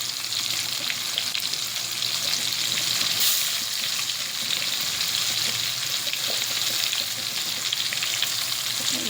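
Marinated fish pieces fry in hot oil with a steady, dense sizzle and crackle, close and constant, with faint stirring.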